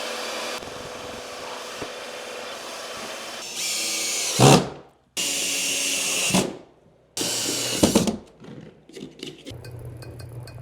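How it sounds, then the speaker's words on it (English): Cordless power drill during bathroom plumbing and tub installation, running in three loud, sustained bursts that each spin up and then stop abruptly, with quiet handling noise in between. "Do it with the drill too."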